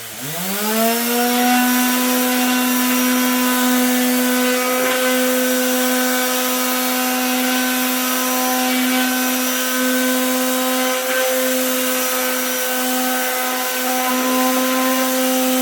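A plugged-in electric power sander runs on wood for a footstool build with 80 grit sandpaper, spinning up quickly and then holding a steady, loud, continuous whine with no breaks.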